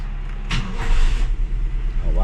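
A Toyota Corolla's 2E 12-valve engine, overhauled a year earlier and smoking again, cranks and catches in one quick start before settling into a rough idle, with someone talking over it.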